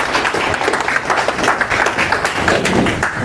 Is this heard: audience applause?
yes